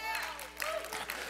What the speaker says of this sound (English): hold on to those applause